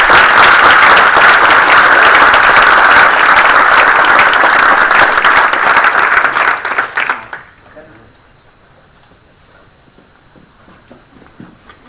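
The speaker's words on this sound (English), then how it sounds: "Another round of applause for the..." Applause at a township council meeting, a loud sustained crowd clapping for about seven seconds before it stops abruptly, leaving quiet room noise.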